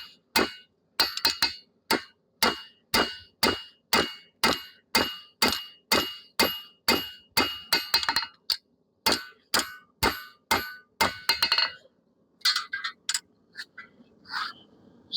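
A hammer beats dents out of a thin chef knife blade, a fast regular run of loud, ringing metallic blows that turns irregular and sparser toward the end.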